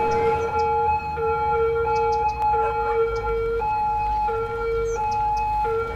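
A police car siren in the city-building game Cities: Skylines wails steadily with a cycling two-tone pattern, loud and continuous over a low rumbling background, with no talking.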